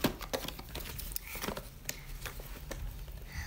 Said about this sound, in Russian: И сегодня мы начинаем уже открывать упаковку.